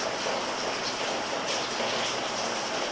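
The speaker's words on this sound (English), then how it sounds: "We're just sitting listening to the pitter-patter of the rain." Steady rain falls around Gowrie Dam, a dense, even hiss of drops pattering close by that carries on without a break for the whole stretch, with no voices and nothing else standing out above it.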